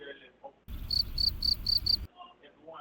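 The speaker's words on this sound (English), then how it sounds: "Crickets." Crickets chirp in a steady, pulsing rhythm of about five quick trills over a low hum, loud and close, with other sounds on either side.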